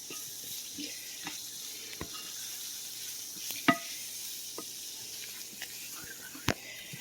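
Flour gravy stirred as it cooks in a pan for biscuits, giving a steady soft sizzle under scattered scrapes and light clinks of the spoon, with a sharper knock near the middle and another toward the end.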